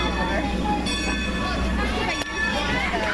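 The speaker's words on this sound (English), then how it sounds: "They're moving the train to go back to the position" A Strasburg train is repositioned to collect its next group of passengers, giving a steady rumble and rail hum with a brief clank, while people talk nearby.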